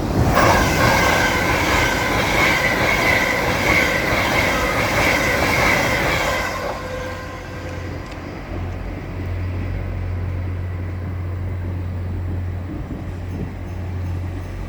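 A three-coach Northern train on a Sheffield service rolls through Doncaster station, loud and close with rumbling wheels and rail squeal for several seconds, then settling into a steadier low hum as it slows.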